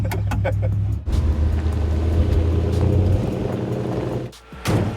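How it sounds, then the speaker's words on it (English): A car's engine rumbles loudly and steadily close by, dipping briefly near the end before surging again; a few voices are faintly mixed in. "Sounds like a car, bro."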